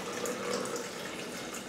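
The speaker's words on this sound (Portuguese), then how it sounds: "Vou colocar um copo com água" A glass of water is poured into a blender holding chopped onion, a short, quiet and steady splashing pour with no talk over it.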